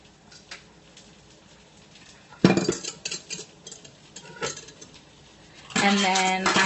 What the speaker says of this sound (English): So I just scramble them up all wonky.